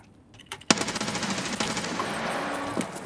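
Gunfire in the video game Escape from Tarkov: a sharp shot, then a quick burst of rapid rounds ringing into a sustained crackling barrage, loud and close with no talk over it.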